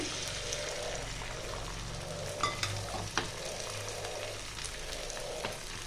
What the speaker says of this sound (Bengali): একটু সাদা তেল দিয়ে দিলাম, দিয়ে আমি ডিমটা দিয়ে দিলাম